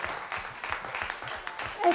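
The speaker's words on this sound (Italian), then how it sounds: "Un grande applauso!" Applause rises from a studio audience at a televised singing contest final in Saint-Vincent, a steady patter of clapping with a host talking over it throughout.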